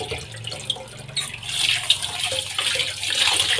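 Running tap water splashing steadily while something is washed under it to remove a vinegar smell, a close, continuous hiss that swells louder partway through.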